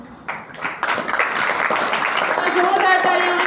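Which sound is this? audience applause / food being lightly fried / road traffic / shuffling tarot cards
audience applause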